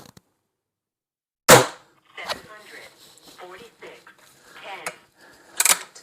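Two sharp, loud cracks from an Air Arms TX200 Mk3 .177 air rifle firing over a chronograph, spaced about four seconds apart, with someone talking and faint clinks in between.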